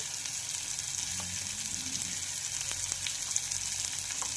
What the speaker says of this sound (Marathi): हे छानपैकी असं फ्राय करून घ्यायचं आहे